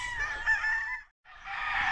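A young brood stag rooster, a Kelso sweater cross from Jerry Jenkins' farm, crows close by in two drawn-out calls split by a short gap, loud and alone with no talking.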